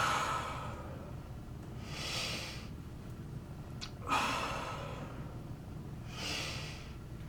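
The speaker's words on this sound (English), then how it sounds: "Breathing in." Slow, audible breaths drawn in and let out during a yoga exercise, three soft airy swells spaced a couple of seconds apart, close and fairly quiet, with a faint sniff midway.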